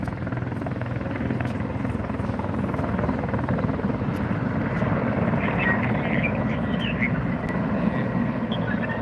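A firefighting aircraft makes a strafing run over a wildfire, and its steady, loud, rotor-like engine roar holds without a break, with some faint background noise under it.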